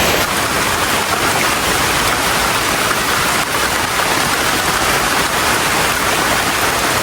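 Heavy rain pours down steadily outdoors during a banana harvest on a farm, a loud, dense, unbroken hiss that stays constant and close throughout, with no voices.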